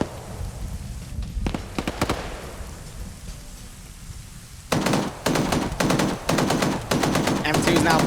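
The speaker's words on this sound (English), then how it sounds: "M2's now blind firing at another Op 4 position" An M2 heavy machine gun firing in a multiplayer shooter match, sharp gunfire with a few brief bursts early on, then dense rapid sustained bursts from about the midpoint, loud and close, with no talk over it.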